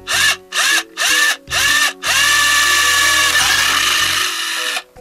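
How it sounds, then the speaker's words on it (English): A power drill bores holes in a blue plastic electrical box held by hand: four short bursts of the motor revving, then one longer continuous run as the bit cuts through, loud and close. "What I'm going to do is drill a hole, actually two holes, in our blue box"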